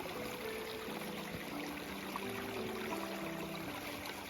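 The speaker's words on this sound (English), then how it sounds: "listen to that babbling" A babbling brook flows in Southern Nova Scotia, its water making a soft, steady trickle and gurgle from close by, quiet and unbroken.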